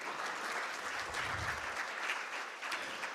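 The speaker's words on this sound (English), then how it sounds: "Let's have a big round of applause for them." A large crowd applauds steadily, a dense wash of clapping that holds at an even level from start to finish.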